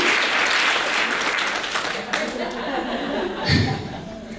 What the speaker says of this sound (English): a round of applause for the fact that you were able to